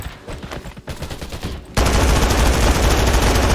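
Rapid automatic gunfire from an M249 machine gun in the game Undawn, softer bursts at first and then a loud, dense continuous stream of shots close up.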